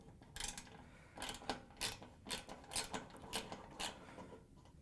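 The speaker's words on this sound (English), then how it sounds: "use a ratchet with 7mm socket to remove the old orifice" A ratchet fitted with a 7mm socket turning out the orifice of a gas range burner on a Frigidaire stove, giving a series of quiet rhythmic clicks in short bursts, close up and with no talk.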